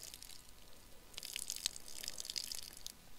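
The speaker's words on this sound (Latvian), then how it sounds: "tagad laikam ūdeni nolies nost" Water poured off fish bait in a bucket on the Lielupe riverbank, a soft trickling and splashing that swells after the first second and runs steadily to the end, fairly close.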